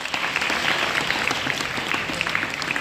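An audience claps steadily for a few seconds, a dense, even patter of many hands at moderate distance.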